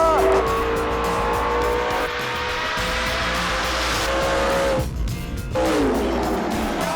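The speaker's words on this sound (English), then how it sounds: "Here comes the Honda." Loud race-car engines roar at a drag strip as a Honda Civic launches in a four-wide race, the revs climbing and shifting over a steady crowd wash with brief tire squeal, close and sustained.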